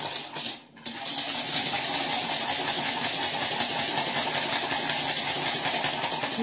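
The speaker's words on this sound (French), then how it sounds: "les 2 œufs avec le sucre, on va les fouetter" Two eggs and sugar being whisked together in a bowl, heard as a steady, close, rapid scraping and clinking that runs without a break for about five seconds after a brief pause at the start.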